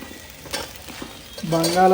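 Cut potatoes tipped into a hot pan with salt and turmeric, soft thuds and scrapes followed by a rising, steady sizzle at close range.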